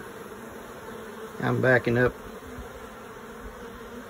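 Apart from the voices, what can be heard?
honey bees buzzing at hive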